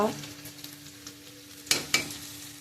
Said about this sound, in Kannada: ಇದು ಚೆನ್ನಾಗಿ ಫ್ರೈ ಆಗಲಿ ಸ್ವಲ್ಪ